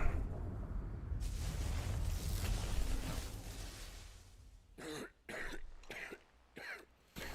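A video game character's burst of rough, harsh coughing and throat clearing, followed by several short, sharp coughs in quick succession.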